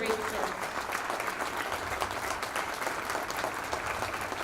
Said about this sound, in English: Please, everyone, give him a round of applause